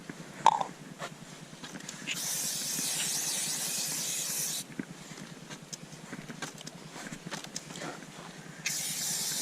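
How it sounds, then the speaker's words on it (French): An aerosol spray can hisses in long steady bursts over a motocross bike during cleaning, with short pauses between sprays, close and fairly loud. "Moi je passe de la bombe partout."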